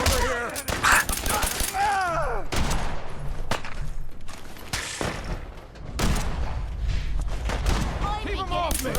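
Heavy firefight gunfire in the game Fallout 4: repeated loud shots and automatic bursts with booming impacts across the whole stretch, while voices shout over the shooting.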